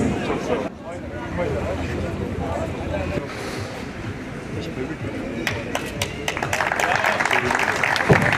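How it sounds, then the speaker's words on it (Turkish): Clapping builds from scattered to fuller applause outdoors at a triathlon in Ordu, Turkey, with wind noise and a voice speaking over it. "Evet, alkışlıyoruz, tebrik ediyoruz."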